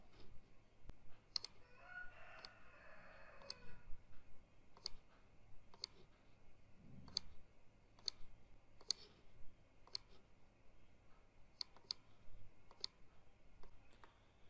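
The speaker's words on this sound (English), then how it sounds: "You can click on this icon to start wiring now." Computer mouse clicks while wiring a buck regulator circuit in PSpice simulation software, sharp isolated clicks spaced every second or so, close and quiet against a faint background.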